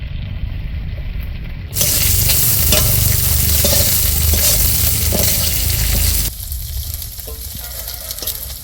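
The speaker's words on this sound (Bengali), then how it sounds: "মাছ কটা হালকা ভাজা ছিল আর একটু ভাজবো বলে দিয়ে দিচ্ছি একসঙ্গে ভেজে নিচ্ছি" Morola fish and green chilies fry hard in hot oil with a loud, continuous sizzle, quieter at first, then surging when the fish goes in and easing off near the end, with scraping stirs throughout.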